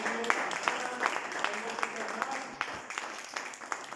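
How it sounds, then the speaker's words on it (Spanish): A congregation applauds during a sermon at a Spanish-language church service. The clapping is faint and somewhat distant, with steady scattered claps mixed with voices talking. "Por favor, un aplauso."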